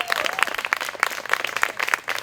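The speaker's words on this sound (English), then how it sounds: "can the audience give this wonderful panel a round of applause?" An audience applauds a panel at a community event, scattered hand claps in a loose rhythm, fairly close and moderately loud, with no voices over them.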